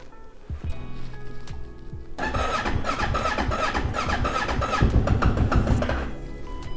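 A Kawasaki Ninja 650 motorcycle being started: a few faint clicks and a whine, then the engine catches into a loud, busy idle that holds steady close by, with no talking.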